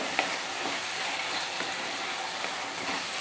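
Ginger garlic paste frying in oil while it is stirred, for a white lemon and kanthari chili pickle, heard as a continuous bright sizzle with faint occasional utensil taps and no voices.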